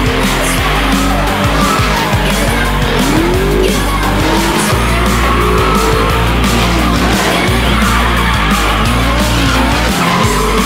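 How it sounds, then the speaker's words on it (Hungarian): A Mercedes E500 drifting on a snowy race track at a drift training session, with loud, continuous engine roar and sustained tire squeal that rises and falls over the whole stretch. "Szabó Szilárd, egy Mercedes típusú gépjármű, E500, nagyon szól, nagyon megy."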